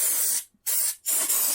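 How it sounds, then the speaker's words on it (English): Mold release spray hissing onto a silicone mold in three short bursts, the first and last longer, separated by brief pauses, close and loud. "I'm going to spray the release spray"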